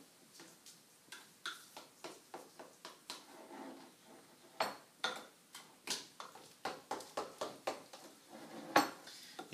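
A utensil clinks and taps rhythmically against a bowl while tartar sauce is mixed with lemon juice, a quick series of sharp ticks with a few louder knocks, close and without speech.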